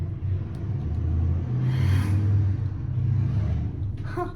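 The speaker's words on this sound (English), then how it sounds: "Fun fact, that was a truck and a motorcycle." A truck and a motorcycle pass by outside, giving a steady low engine rumble that swells toward the middle and fades, heard indoors without talk.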